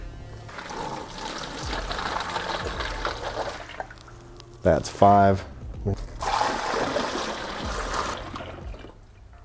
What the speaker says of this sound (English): we're gonna add 10 liters of water into this vessel